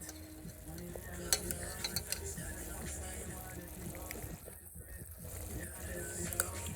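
Pork for Jamaican brown stew frying in a pan, a steady close sizzle with scattered stirring clicks and scrapes throughout, no talking.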